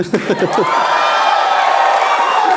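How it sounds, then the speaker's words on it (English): A live comedy audience breaks into cheering and whooping, a loud crowd roar that builds and holds after a few brief shouted syllables at the start. "give us a round of applause if you've come from interstate"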